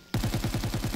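Rapid automatic gunfire in Black Ops 3 Custom Zombies on a Minecraft-style sand islands map: a burst starts abruptly, and about nine evenly spaced, punchy shots follow, loud and close.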